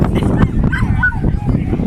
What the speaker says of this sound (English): That's Tam and Echo, his dogs